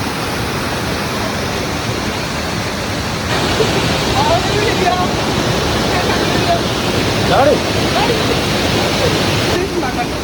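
Atla waterfall pours in a steady, dense roar of rushing water over rocks, loud and close, with a few faint voices barely audible beneath the constant flow.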